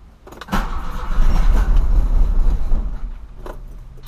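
A flooded Volkswagen Voyage turbo engine cranks and struggles to start, a loud, sustained churning roar from about half a second to three seconds, then fading with a brief burst near the end; no talking.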